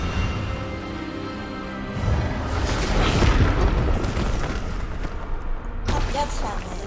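In a video game, an Expelliarmus spell is cast, setting off a deep, booming magical burst that swells and rumbles for a few seconds before a sharper crackle, with voices speaking over it.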